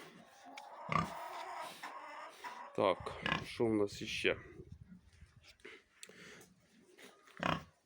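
Grunts and snorts from a Yorkshire and Landrace cross pig on a farm, several short close grunting bursts scattered among a man's speech and handling noises.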